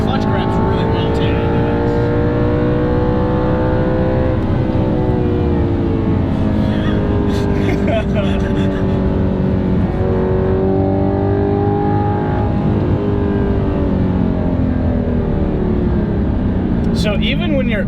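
An Audi R8 engine revving hard during a spirited drive toward redline, its pitch climbing and falling through gear changes, loud and close from inside the cabin, with brief bursts of someone talking over the engine.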